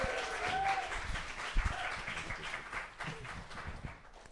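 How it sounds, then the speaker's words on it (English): An audience at a literary panel on debut novels applauds, a faint, steady wash of clapping heard at a distance for a few seconds. "Okay, we can clap again."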